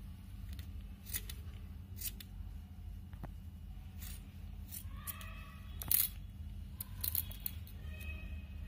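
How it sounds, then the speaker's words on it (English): Scissors snip excess yarn from a handmade pom-pom for earrings or hair ties, making a series of sharp, close, irregular cuts over a quiet hum, with a few busier bursts of snipping toward the end. "We are going to trim off the excess and then make it into just a fluffy one."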